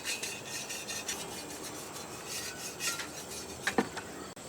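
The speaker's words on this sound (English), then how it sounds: "To sharpen a shovel, we use a flat file." A flat file rasping along a rough steel shovel edge, giving faint, close scraping strokes that repeat in an uneven rhythm with a couple of sharper metallic scrapes near the end.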